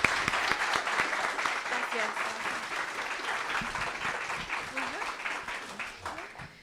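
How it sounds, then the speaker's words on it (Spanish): Audience members at an informal workshop applaud in a sustained, moderately loud patter of many hands, with voices speaking over the clapping. "Y pues les damos otro aplauso"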